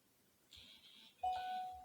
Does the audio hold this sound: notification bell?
yes